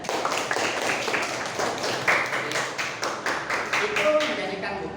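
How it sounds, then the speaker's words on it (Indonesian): Students in a classroom clap together in a dense, steady burst of applause lasting several seconds, close and fairly loud, with a few individual claps standing out near the end. "boleh beri aplaus tepuk tangan"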